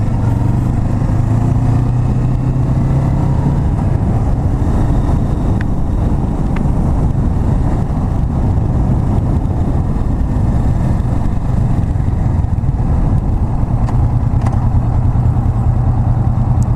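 A Kawasaki Vulcan S cruiser motorcycle engine idles with a steady, low, loping throb, shaking hard, close up with some wind buffeting the microphone.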